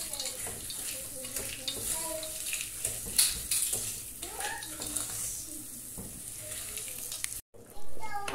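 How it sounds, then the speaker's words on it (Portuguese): Sugar melting to a golden caramel in a pan while being stirred, for a Brazilian festa junina peanut brittle; a steady sizzling hiss runs under scraping stirring sounds, with a brief break near the end. "já derreteu bem o meu açúcar, já ficou bem douradinho"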